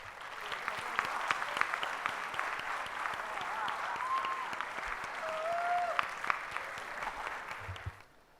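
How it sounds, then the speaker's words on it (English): A conference audience at an event welcoming two speakers on stage gives a sustained, moderately loud round of applause, with a few voices faintly mixed in, until it tapers off at the end. "With a big round of applause"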